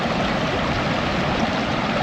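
Water rushes steadily at the base of a waterfall by swimming pools, a dense, even wash of flowing water heard up close with no voices.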